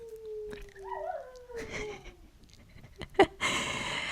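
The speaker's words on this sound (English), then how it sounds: "If you hear any noise in the background, I think that's Yuri howling" A faint, wavering dog howl rises and slides down in pitch, with scattered clicks and breathy noises around it, ending in a louder rustle.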